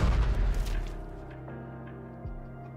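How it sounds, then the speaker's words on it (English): A massive explosion in the video game Goddess of Victory: NIKKE bursts loudly with a deep boom, then rumbles and decays into a low lingering tail, followed by a faint thud. "A massive explosion rings out and the man is no more"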